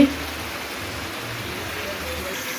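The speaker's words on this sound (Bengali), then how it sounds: "বাইরে এখনও অনেক বৃষ্টি।" Steady heavy rain hisses continuously, a dense even wash of noise with no breaks.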